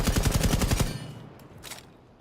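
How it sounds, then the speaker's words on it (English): An AK-74U rifle in Rainbow Six Siege fires a rapid automatic burst of about a dozen loud, close shots, then a couple of fainter reports and an echoing tail. "at number 17, we have the AK-74U, where it's just kind of a mid gun, but it has the 40 round mag."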